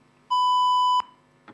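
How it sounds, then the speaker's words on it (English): A debate timer sounds its buzzer to end a speaker's time: one loud, steady electronic tone lasting under a second, followed by a faint click in a quiet room. "at the completion of 2 minutes, a buzzer will be heard"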